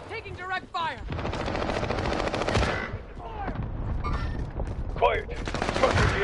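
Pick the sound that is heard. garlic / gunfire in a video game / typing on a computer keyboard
gunfire in a video game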